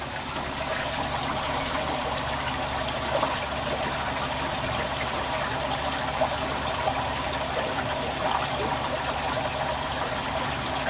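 Water runs steadily into a fish tank system on a homestead, a continuous close trickling rush that holds at an even level throughout with no voices.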